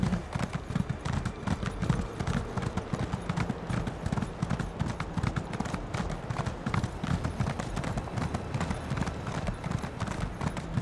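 Horse hooves clip-clop steadily and close up in Elder Scrolls Online, a continuous rhythmic trot running the whole time with a faint whinny-like tone buried in the mix.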